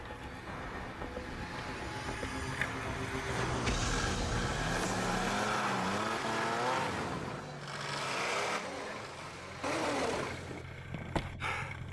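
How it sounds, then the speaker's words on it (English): A snowmobile engine runs steadily in Arctic snow during an Inuit journey with a loaded sled, a continuous mechanical drone that rises and shifts in pitch as the machine labors, fairly loud throughout with no talk. "The noise and smell of the snow machine stands in stark contrast"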